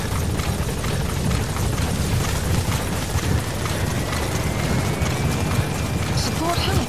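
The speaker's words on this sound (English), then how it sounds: "Support helicopter has arrived." A support helicopter arrives in Metal Gear Solid V, its rotor chop and engine rumble sustained and fairly loud across the scene, mixed with game ambience.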